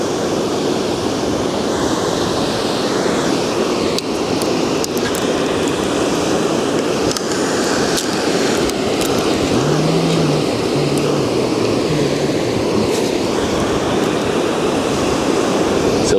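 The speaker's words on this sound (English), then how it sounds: "if you hear those waves, that's the wake of the container ship" Waves from the wake of a passing container ship on the Westerschelde wash in as a constant loud, broadband rush near the shore, with faint low rumbling and brief knocks mixed in.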